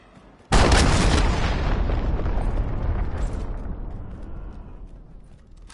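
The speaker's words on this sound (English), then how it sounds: "Cruise missile, take cover." A cruise missile strike in a first-person shooter video game erupts suddenly into one loud, close explosion, its roaring blast rumbling and slowly fading over several seconds with no talk over it.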